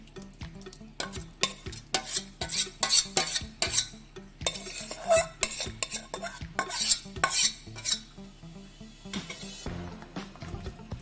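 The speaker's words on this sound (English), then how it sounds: "You just mix it with your spoon" A spoon stirs sticky date pudding cake batter in a bowl, scraping and clinking against the sides in a steady run of quick strokes, close and fairly loud, with no voices.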